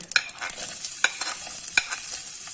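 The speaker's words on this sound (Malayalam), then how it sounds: "1/2 ടീസ്പൂൺ വീതം കടുകും ജീരകവും ഞാനിട്ടു" Mustard seeds and cumin sizzle in hot oil, a steady bright hiss punctuated by sharp crackles and pops as the seeds burst, close and fairly loud with no talking.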